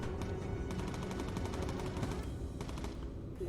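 Bomber gun turrets firing in the Bomber Crew video game, a continuous rapid rattle of machine-gun bursts, loud and close, with quick repeated shots over a dense mechanical background.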